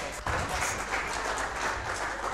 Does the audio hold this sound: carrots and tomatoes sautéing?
no